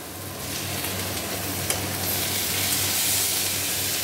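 Onions, tomatoes and green chillies sizzling steadily in a hot pan, a constant close frying hiss with a brief clink partway through.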